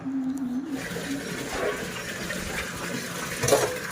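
Water runs from a tap while dishes are washed in a home kitchen, a steady watery rush throughout with faint clinks and a brief louder splash near the end.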